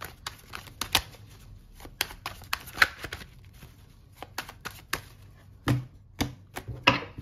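Tarot cards are shuffled close up in a series of irregular soft slaps and riffles, some clustered, others spaced out, quiet and without talk.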